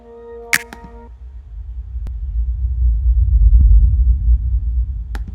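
Sound effect run through stacked filter delays and ping pong delays in Ableton: a short sharp tonal hit, then a swelling low rumble with scattered faint clicks, all loud and without talk.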